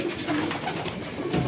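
Imported racing pigeons coo softly and repeatedly in a loft, a low murmuring burble over faint background noise.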